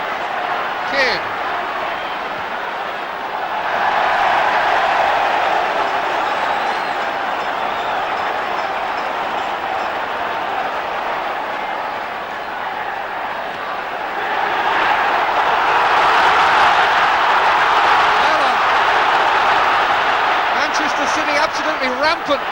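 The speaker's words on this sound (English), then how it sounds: "difficult to hear yourself think about this crowd now" Dense roar of a packed football stadium crowd at a 1971 Manchester derby between City and United, swelling loudly and continuously with a commentator talking over it.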